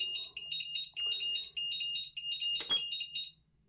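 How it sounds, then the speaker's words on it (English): A GT Power X4 lipo charger beeps in a fast, steady series of high electronic chirps, near and clear, with a brief clatter partway through. "So it just beeps."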